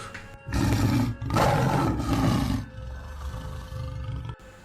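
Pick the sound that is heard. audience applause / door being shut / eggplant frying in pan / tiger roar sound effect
tiger roar sound effect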